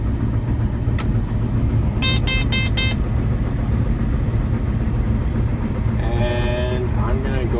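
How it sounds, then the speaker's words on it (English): John Deere 9870 combine at low throttle, a loud steady engine rumble throughout, with several short tonal beeps partway through and a longer tonal chime near the end as the separator and header engage. "I'm going to engage my separator. I'm going to engage my header."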